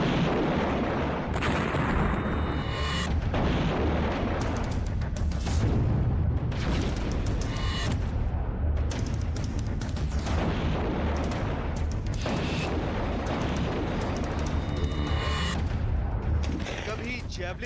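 War-zone shelling with rockets and artillery in the Russia–Ukraine war, a dense, loud barrage of booms and rumbling blasts filling the whole stretch without pause.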